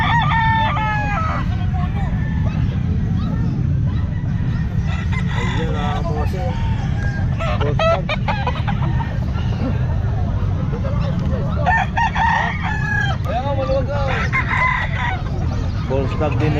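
Young stag roosters crow repeatedly at a busy Calumpit pet market, their calls rising over a constant crowd babble and nearby talking.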